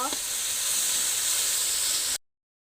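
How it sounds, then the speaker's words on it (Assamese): Ginger, garlic and onion fry in a pan with a steady, bright sizzle and hiss, close and fairly loud, cutting off abruptly after about two seconds. "আদা, নহৰু, পিঁয়াজখিনি মোৰ ভাজা হৈছে।"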